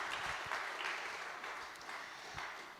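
Faint applause from a church congregation, a steady wash of clapping heard at a distance for a few seconds.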